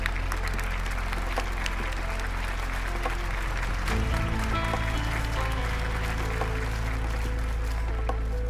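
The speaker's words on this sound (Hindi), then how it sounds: "अब मिस्टर शेनमी के लिए तालियां बजाइए" Audience clapping for a man on stage in a dubbed Chinese drama scene, a steady wash of applause beneath a droning low background tone that thickens halfway through.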